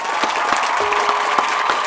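A church congregation claps at an Easter youth service, a short burst of steady, even applause filling the room.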